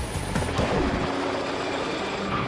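A helicopter lifting off for a life raft parachute drop test, a loud close steady rotor roar with a broadband whooshing wash, continuous throughout with no speech.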